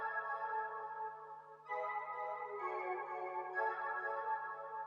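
Synth pluck chords in an FL Studio beat, treated with flanger and delay, play as sustained harmonic stabs that step up in loudness around the two-second mark and repeat steadily, alone without talk.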